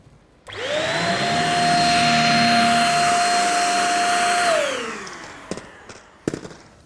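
A cordless vacuum cleaner sucking up fine dust on a hard floor starts with a surge, holds a loud, steady high-pitched motor whine for about four seconds, then winds down, followed by a few faint clicks.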